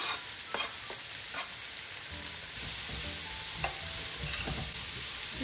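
Onions dropped into melted butter in a pan while cooking coq au vin, a quiet sizzle that grows louder and steadier partway through, with scraping stir sounds and light clinks of a utensil against the pan.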